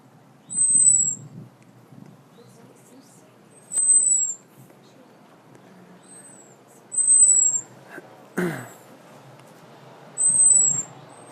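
Several high, thin whistled robin alarm calls repeat every few seconds over a quiet outdoor background, with one brief rustling noise near the end.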